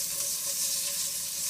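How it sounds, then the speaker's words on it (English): Chorizo sizzles and crisps in a frying pan, a steady close hiss of fat spitting without pause and no voices. "Now, my chorizo, which is already crisping up lovely."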